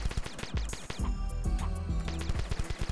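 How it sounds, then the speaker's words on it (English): Rapid gunfire from shooting at blocks in the video game The Desolate Hope: loud, dense bursts of shots that run almost continuously through the moment. "How come these blocks don't look like they're getting hurt when I'm shooting at them?"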